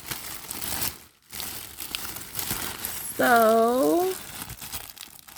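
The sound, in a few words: unwrapping the packaging of a Dooney & Bourke satchel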